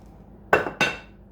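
Two sharp clinks of a mixing bowl, scraper and little spoons being gathered up for cleaning in a home kitchen, close and fairly loud, each with a short ringing tail against a quiet room.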